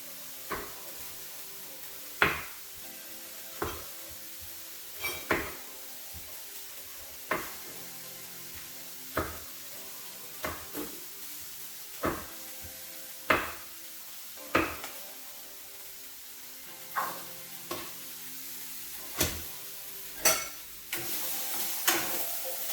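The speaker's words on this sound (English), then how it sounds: "I'm going to be dropping in 2 sausage to fry as well" Frozen sausages cook in a pot of oil with a quiet background sizzle, broken by regular sharp knocks and clatters of utensils and cookware about every second or two. No one speaks.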